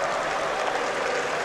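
PAOK football fans in a stadium give warm applause, a brief, steady wash of distant crowd clapping without any clear individual claps.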